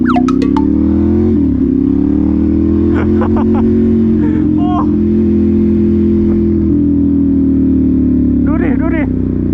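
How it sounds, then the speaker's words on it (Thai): A big bike motorcycle leaning through a corner, its engine holding a steady, loud droning tone with a slight dip in pitch partway through, while people talk over it. "พี่แชมป์เข้าโค้งแบบสุดยอดมากเลย"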